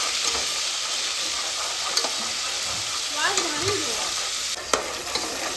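Hot tomato and onion paste sizzles steadily in a pan while it is stirred in, a constant frying hiss with a few soft scraping clicks from the spoon, close and fairly loud, with no talking.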